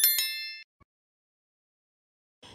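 A bright notification ding rings twice in quick succession, then a faint click and a short soft swish follow after a pause.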